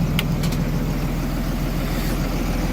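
A 2000 Blue Bird school bus engine idles up front, a loud, close, steady rumble with a brief rattle at the start.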